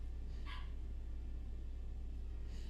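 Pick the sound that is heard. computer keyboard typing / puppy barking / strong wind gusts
puppy barking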